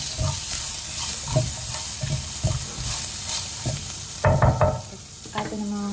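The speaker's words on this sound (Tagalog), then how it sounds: "Igisa na natin ating sibuyas," Onion and garlic sautéing in a pan: a continuous close sizzle under repeated rhythmic stirring scrapes and clinks, growing busier toward the end, with no talking.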